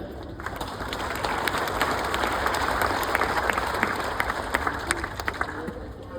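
Audience at a Hindi comedy poetry show (kavi sammelan) applauds in a steady, dense burst of clapping that fills the whole stretch, with faint crowd murmur underneath.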